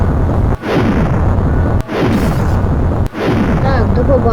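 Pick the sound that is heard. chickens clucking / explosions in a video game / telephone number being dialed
explosions in a video game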